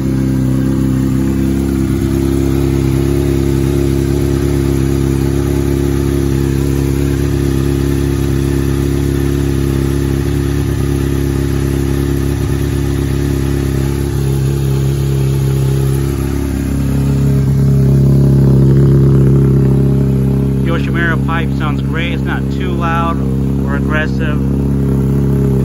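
Close, loud 2008 Honda CBR600RR motorcycle engine idling steadily, with rising and falling revs partway through, and someone talking briefly over it near the end.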